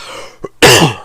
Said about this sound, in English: I gotta get rid of this cough.